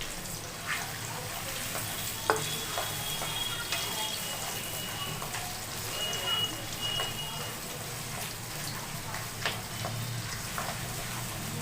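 Six or seven whole dried red chillies sizzle and fry in hot oil for a mutton curry, a steady, close crackle with small pops throughout and no one talking.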